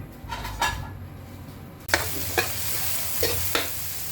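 Liempo (pork belly), shrimp and mussels sautéing in a pan for udon: steady close sizzle and frying hiss, which jumps louder as more goes in, with several clear stirring scrapes of a utensil against the pan.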